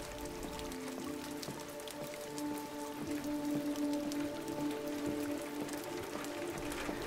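Steady rain patters across a surface in the video game Detroit: Become Human, a constant dense hiss with scattered drops over a low ambient drone, unbroken for the whole stretch with no voices.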